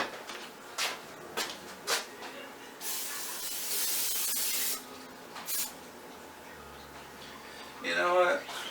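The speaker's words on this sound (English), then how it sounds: "Spray butter." Several short hissing bursts of butter cooking spray, then one longer sustained spray, close and fairly loud, with faint clatter between them.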